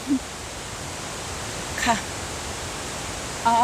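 A large waterfall on the Dalälven river in Sweden roars as a steady, broad rush of falling water, even and loud, with a couple of brief knocks and squeaks over it.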